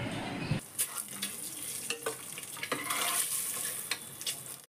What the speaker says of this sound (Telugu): 1/2 స్పూన్ పసుపు, 1/2 స్పూన్ కారం వేసుకొని ఫ్రై చేసుకోవాలి ఎగ్స్ని